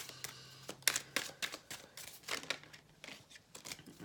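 Tarot cards shuffled by hand during a love reading, a run of quick crisp riffling and flicking bursts close up, irregular and papery, with no talk.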